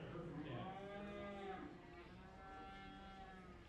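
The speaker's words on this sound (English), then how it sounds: "Tell us about your little kind of Hereford calf." A Hereford calf at a county fair 4-H and FFA beef show gives one long, drawn-out moo, close and clear against a low murmur of fairground noise.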